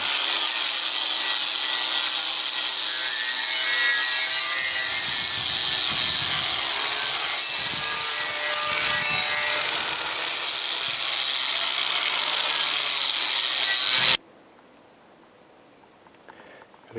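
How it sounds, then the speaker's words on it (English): A wire brush on an angle grinder scrubs rust off metal cultipacker parts, a loud, steady, harsh whirring scrape with slight changes in pressure that stops abruptly near the end, leaving a quiet hum. "Hit them with the wire brush on the grinder first."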